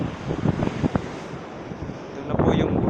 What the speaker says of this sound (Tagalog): delikado po lumapit doon kasi malalaki yung alon.